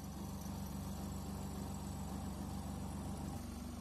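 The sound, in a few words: semi-automatic washing machine spin motor starting and running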